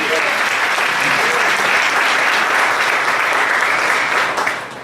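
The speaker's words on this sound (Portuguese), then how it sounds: "Dê uma salva de palmas para eles." Dense, sustained applause from a church congregation fills the whole stretch, loud and even, thinning slightly at the very end.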